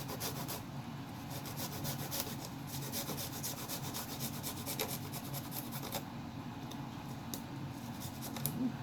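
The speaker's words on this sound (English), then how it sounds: "And I'll just grate it directly into the mix." Garlic cloves grated straight into a marinade mixture, a steady close scraping and rasping texture that continues throughout without talk.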